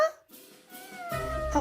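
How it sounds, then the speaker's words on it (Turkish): A cat meows with a rising, plaintive cry, followed by a second, longer meow close to the listener. "Kedi sesi geliyor."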